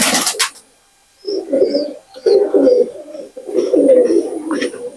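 Rare Pakistani pigeons coo in three rounded, throaty bursts close by, after a brief sharp noise at the start, with soft high chirps scattered over the calls.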